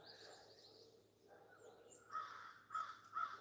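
Crows caw faintly at a distance, three harsh calls spaced about half a second apart near the end, over quiet outdoor ambience with softer bird chirps earlier.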